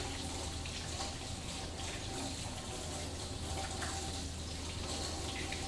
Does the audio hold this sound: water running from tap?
yes